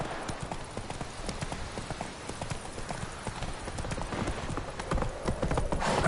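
Hooves of Roach, a horse in the Witcher 3 video game, clip-clop in a fast, steady galloping rhythm over rough ground, close and continuous with no talk.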